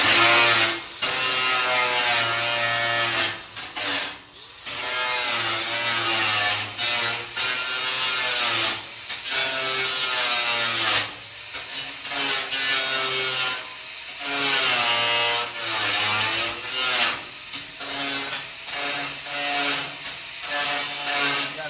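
An angle grinder grinding welding tacks off a steel table, a loud close whine that holds for seconds at a time, drops briefly between passes, then spins back up, with no speech.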